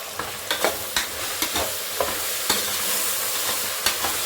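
Mint leaves being added to vegetables sautéing in a pan for veg pulao, with close scraping stirs and spoon knocks landing in an irregular rhythm over a continuous hiss of frying.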